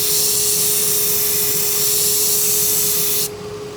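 A hunting knife being finished on 120 grit abrasive makes a loud, steady whirring grind with a constant hum, running continuously before easing slightly at the end.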